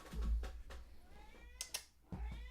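A cat meows several times close by, short nasal cries with brief pauses between them, fairly quiet overall.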